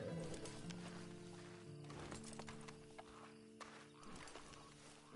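Horse hooves clip-clop at a walk in the Red Dead Redemption video game, a soft rhythmic patter set among ambient game sound and low background music.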